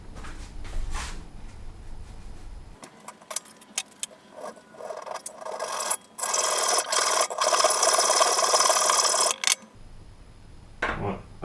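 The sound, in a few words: hacksaw cutting a 5mm steel rod held in a vise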